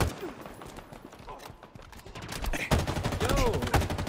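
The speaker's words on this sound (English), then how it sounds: "Taking fire." Gunfire in the shooter Halo Infinite, a short spell of scattered shots and rattling bursts at moderate volume, growing busier toward the end amid other game sounds.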